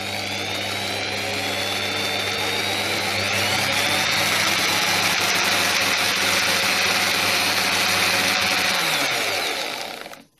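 Power drill spinning steadily to wrap a hybrid vape coil, a loud continuous whirring motor with a rising tone that runs for about ten seconds before cutting off abruptly at the end, no talking.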